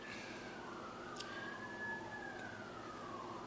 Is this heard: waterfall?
no